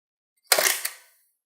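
A Mamiya RB67 medium-format camera fires its shutter once, a single sharp mechanical clack followed by a short whirring rattle that dies away within half a second, close and isolated in silence.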